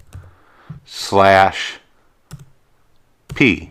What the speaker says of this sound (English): I'm going to type in there shutdown